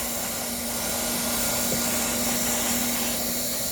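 Hot air plastic welding gun running steadily as a seam is welded with a roller in front of the tip, a continuous close blowing hiss with a faint steady hum underneath.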